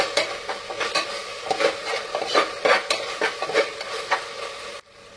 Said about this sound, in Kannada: ಎಣ್ಣೆಲಿ ಹಿಂಗೆ ಕಾಯ್ಕೊಂಡಿದ್ರ ಆ ಶುಂಠಿ ಬೆಳ್ಳುಳ್ಳಿ ಪೇಸ್ಟ್ ಹಸಿ ವಾಸನೆ ಹೋಗ್ಬೇಕು